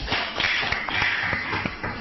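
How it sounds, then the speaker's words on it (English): Applause for the resource persons at the close of an HIV/AIDS training session, a steady dense patter of many hands clapping at moderate level with no talk over it. "Please give an applause to all the resource persons for these sessions."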